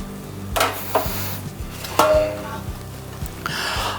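A few clanking, knocking hits of metal baking pans being handled while making focaccia, with a scrape near the end, set against a faint low hum.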